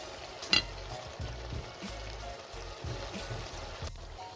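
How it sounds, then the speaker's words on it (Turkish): Chopped tomatoes tumble into a hot pan of frying green beans with a burst of sizzling, followed by steady frying and scattered stirring clatters. "Kavrulan ve rengi değişen taze fasulyelerimize ilave doğradığımız 2 adet domatesi döküyoruz."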